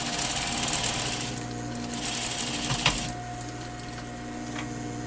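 Sewing machine stitching a seam on fabric for a bound buttonhole, a close steady rapid whirring run that slows and eases off after about three seconds, with no talk.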